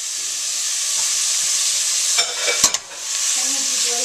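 String beans frying and browning in a pot give off a steady, loud sizzle, broken midway by a few clattering stirs of a utensil against the pot before the even hiss resumes.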